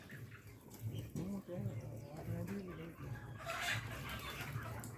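Chickens on a chicken farm in the early morning, around 150 birds, cluck and murmur continuously at close range while people talk over them.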